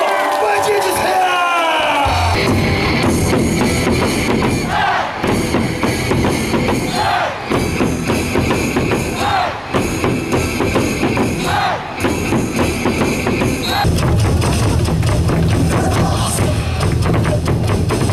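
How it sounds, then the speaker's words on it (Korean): A baseball stadium crowd at an SSG Landers game roars and cheers for a batter reaching 450 career home runs, dense loud sustained crowd noise with rhythmic surges and chanting, an announcer's voice over it. "역대 2호 450 홈런을 달성한 최종 선수를 박수로 맞이해주세요"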